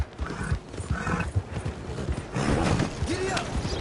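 A horse gallops in Red Dead Redemption 2, with loud, rhythmic hoofbeats close up, a whinny breaking through partway, and a creak of tack among the pounding steps.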